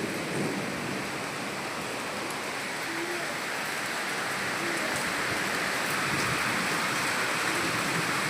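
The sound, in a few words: heavy midday rain falling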